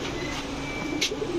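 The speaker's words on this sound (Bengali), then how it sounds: "দেখেন এই যে BRPFC ক্লাবের কবুতর, দেখেন কবুতরগুলো" Racer pigeons at a seller's loft coo in soft, repeated throaty notes, close by against a steady background hum, with a faint chirp near the end.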